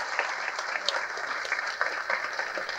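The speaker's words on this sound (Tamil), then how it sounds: "நல்ல கைத்தட்டு கொடுங்க அவருக்கு" An audience at a Tamil film trailer launch event applauds, dense and steady clapping from a large crowd, moderately loud and continuous throughout.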